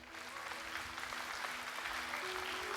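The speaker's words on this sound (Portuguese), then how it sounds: "você pode dar uma salva de palmas para o Senhor" Steady applause from a congregation during a church service, dense continuous clapping with a low sustained tone underneath, sounding full and even throughout.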